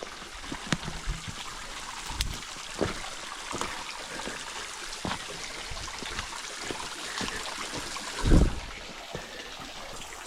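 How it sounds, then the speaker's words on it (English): Water flows and trickles steadily over rocks in a small stream and waterfall in a West Virginia holler, a continuous nearby rush with a few brief knocks and splashes. "Look at this. It's a waterfall."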